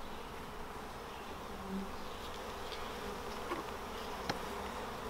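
Steady buzzing of many honey bees from a nucleus colony fills the air, a continuous soft drone with occasional nearer buzzes passing by.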